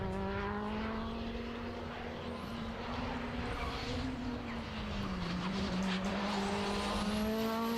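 A Honda race car screams through a fast time attack lap at Knockhill, its high engine tone sweeping up and down with gear changes and held loud and close throughout, with faint tyre noise and no voices.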